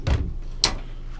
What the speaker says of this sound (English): And then you can close the privacy doors.